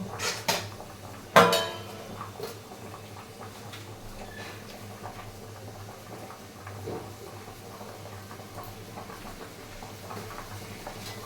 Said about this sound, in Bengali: এখন ফ্রাইড রাইসটাই কড়াইতে বসাই দেব।